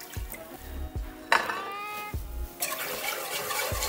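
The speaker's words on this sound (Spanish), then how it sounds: "Vamos a agregar toda la leche." Milk pours into a roux for homemade lasagna sauce, a liquid splash and trickle amid clinks of a pot and utensil, close by and without speech.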